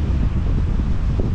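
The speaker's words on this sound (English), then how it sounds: "I know it's a bit windy, nothing I can do about that." Strong, steady wind buffets the microphone while riding a bike along a lakeside trail at Geneva-on-the-Lake, a loud continuous low roar with gusty rumbling and no voices.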